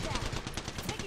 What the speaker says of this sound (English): I missed all my shots.